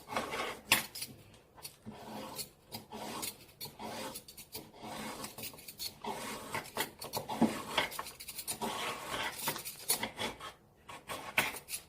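A handheld peeler shaves burdock root into thin strips, making quiet, repeated rasping scrapes in short irregular strokes with brief pauses between them.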